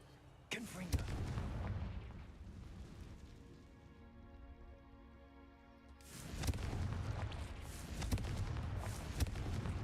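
A Confringo fire spell from the game Hogwarts Legacy sets off booming explosions, a sharp burst followed by a rolling roar that fades to a humming lull before another loud blast rumbles on.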